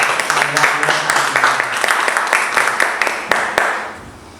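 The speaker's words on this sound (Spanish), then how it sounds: "pido un pequeño aplauso para ellas" A modest round of audience applause at a book presentation event, with individual hand claps standing out over a thinner clapping crowd and some voices underneath.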